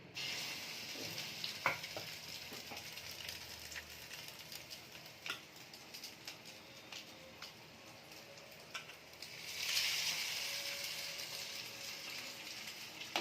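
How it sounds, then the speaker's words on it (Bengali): Egg-dipped bread slices fry one by one in hot oil, giving a steady soft sizzle throughout with occasional crackles and a brief louder burst of spattering partway through, close by and without talk. "তেলও দেওয়া আছে, আর আমি একে একে ভেজে নেব"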